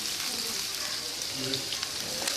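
Tomatoes sautéing in a pan for desi-style chicken pasta, a steady close sizzle and crackle with faint scraping, heard under a voice.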